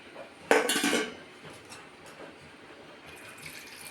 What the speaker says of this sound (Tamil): தண்ணி ஊற்றி